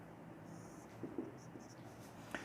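Marker or chalk writing on a classroom board, a quiet scratchy stroke texture with a few soft taps, faint against a hushed room with no talking.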